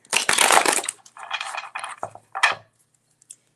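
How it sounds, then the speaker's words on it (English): A deck of cards is shuffled for a yes-or-no card reading: a long riffling burst, then several shorter crisp riffles and taps that fade to near silence, close to the microphone and without talk. "I'm going to shuffle for you."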